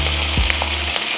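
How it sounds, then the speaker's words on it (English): Eggs frying in a well in the middle of a wok beside beef chow fun noodles, giving a dense, hissing sizzle that stays constant and close, with a few faint clicks and no talking. "Then what I like to do is I like to create a little well in the middle to fry my eggs"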